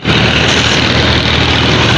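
A new heavy motorcycle engine idles up close, a loud, steady, dense rumble with no revving, continuous for the whole stretch.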